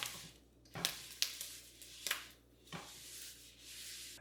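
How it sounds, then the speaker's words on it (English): Wiping down a frying pan while cooking beef fried rice produces a few brief scraping, rubbing strokes spaced roughly half a second apart, close and soft, with no talking. "Wipe down the pan."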